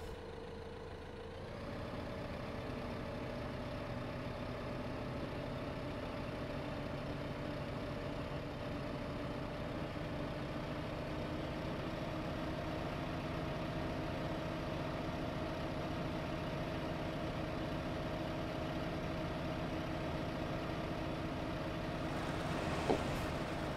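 A tractor engine in the Farming Simulator 15 video game idles and runs steadily for the whole stretch, a constant droning hum with no talk over it.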